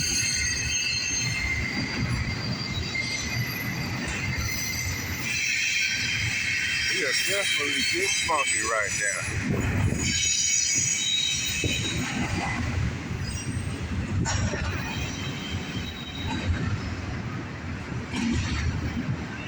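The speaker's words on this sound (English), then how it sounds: "Southbound CSX intermodal." A southbound CSX intermodal freight train rolls past in Dayton, Ohio, a loud continuous rumble with sharp squealing wheels rising partway through; someone talks over it briefly.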